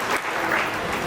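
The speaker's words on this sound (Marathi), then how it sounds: "जोरदार टाळ्या वाजून यांचं अभिनंदन करूया" A crowd claps loudly and steadily at a farmers' award ceremony, a dense, continuous patter of applause filling the whole moment with no voices over it.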